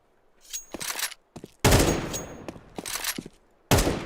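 Counter-Strike gunfire: loud bursts of automatic shots broken by short pauses, with a long sustained burst in the middle and another burst starting at the end, with no talk.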